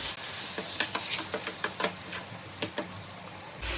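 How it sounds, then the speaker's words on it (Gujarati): Garlic and tomato gravy cooks in a pan for a spicy mung bean dish, with a low steady sizzle and a run of close, rhythmic stirring taps and scrapes against the pan. "હવે આપણે એમાં નાખીશું ગાર્લિક ને ટામેટાની ગ્રેવી નાખીશું. એને 2-3 મિનિટ થવા દઈશું."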